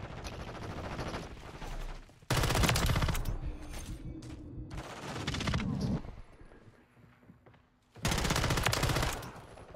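Bursts of rapid automatic gunfire in a Call of Duty Modern Warfare III free-for-all match, three loud sustained volleys separated by quieter gaps, with a player's voice coming through briefly.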